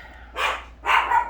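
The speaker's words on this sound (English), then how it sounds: "Sorry for the dog." A dog barks indoors at a home desk: two loud, close barks in quick succession, standing alone against a quiet room hum.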